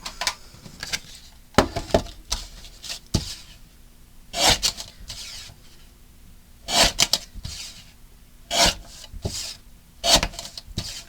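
Paper squares for a DIY holiday decoration project are trimmed out by hand. Scattered bursts of dry rubbing and cutting noise come in close, irregular clusters, with quiet gaps between them and no speech.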